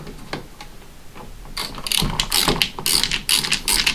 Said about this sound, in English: And then what you're going to do is just screw these screws back in.